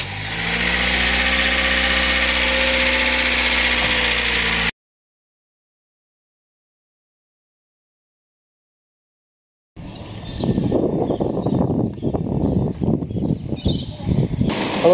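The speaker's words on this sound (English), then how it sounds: "Start up the car, hope it doesn't blow up." A car engine idling steadily up close, followed by a silent gap, then another engine start and rough running with clattering bursts, loud and close.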